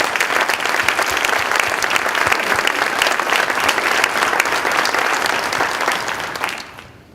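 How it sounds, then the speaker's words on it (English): A large audience applauds superintendents at a Columbus State event, a dense, steady round of clapping that holds for about six seconds before fading out. "I would like them to stand up and please accept our gratitude with a round of applause"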